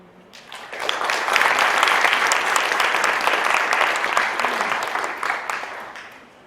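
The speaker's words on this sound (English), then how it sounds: "Let's give him another round of applause" Audience applause at a community awards ceremony honoring a saxophonist, a steady, full round of clapping that swells in and holds strong for several seconds before tapering slightly.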